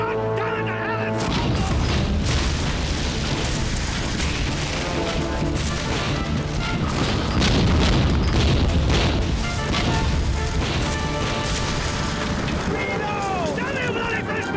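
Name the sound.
ship cannon fire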